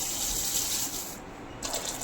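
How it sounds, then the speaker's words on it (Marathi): Steady rush of running water as poha (flattened rice flakes) are rinsed, with a brief dip in the hiss midway before the flow resumes. "पाण्याने धुवून घ्यायचे पोहे"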